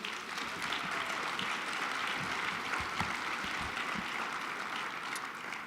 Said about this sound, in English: Another round of applause for General Dean.